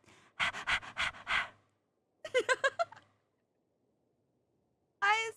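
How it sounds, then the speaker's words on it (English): A dog pants heavily and close up in two quick bursts of rapid, rhythmic breaths, followed by a brief higher whine-like sound after a pause. "Coxie, she's breathing heavily."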